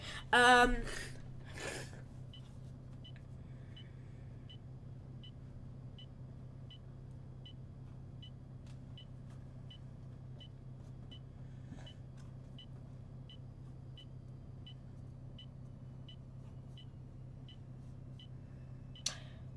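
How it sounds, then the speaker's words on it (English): A bus turn indicator in the OMSI 2 simulator ticks in a regular, faint series of clicks over a low engine hum, following a brief louder burst at the start. "The indicator sounds like it keeps changing speed"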